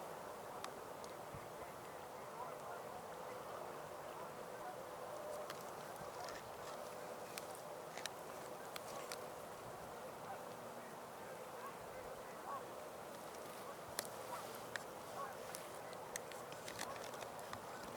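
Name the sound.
ducks at Montezuma National Wildlife Refuge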